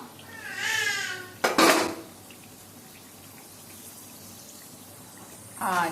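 A metal lid is lifted off a pot of masala chicken cooking on a low simmer, giving a single clattering clink, with gentle cooking hiss in the background and voices speaking before and after.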